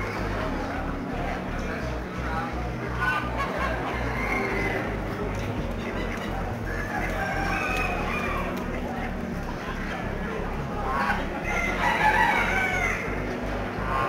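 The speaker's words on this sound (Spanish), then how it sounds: "Mira la gallina." Chickens cluck while a rooster crows a few times, amid a busy outdoor farmyard background at an international poultry fair in Reggio Emilia.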